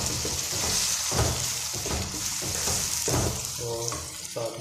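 Finely chopped tomato and green chillies sizzle with browned onions in a pan, a steady frying hiss broken by repeated stirring scrapes, close and continuous with no talking.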